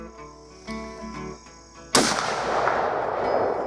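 One sharp, loud rifle shot from a Berthier M16 cavalry carbine fired at 50 yards outdoors. It cracks suddenly after a quiet stretch with faint insect chirping, and a long rolling echo trails away behind it.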